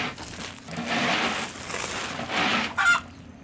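Chickens cluck and squawk in agitated bursts, fairly close, with a louder flurry of calls near the end and no talking over them.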